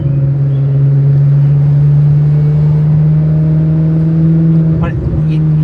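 A Ferrari fitted with a Valvetronic exhaust holds a steady, loud, high-pitched droning rev for several seconds, with a brief surge near the end.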